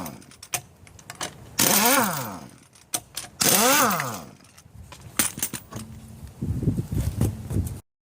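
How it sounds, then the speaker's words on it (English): An impact wrench pulls a wheel off a 2003 Oldsmobile Silhouette-type minivan: two loud, whirring rattling bursts, close, with revving pitch sweeps, followed by clanking and mechanical rattles before cutting off. "We'll take off our wheel with an impact wrench on here"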